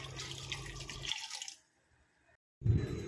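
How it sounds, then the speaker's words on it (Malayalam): A glass of water poured into a blender jar of pumpkin for juice: a short, steady pouring rush that stops abruptly, followed by a brief silence and a low thump. "ഇനി ഇതിലേക്ക് ഒരു ഗ്ലാസ് വെള്ളം കൂടി ഒഴിച്ചത് ഒന്ന് അടിച്ചെടുക്കാം"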